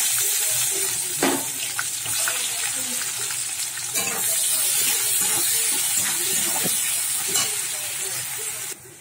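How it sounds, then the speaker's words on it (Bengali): Chopped onions frying in oil in a pan after cumin and bay leaf, a continuous hissing sizzle with soft spatula scrapes and brief knocks, close and steady. "পেঁয়াজটা লাল করে ভেজে নেবো"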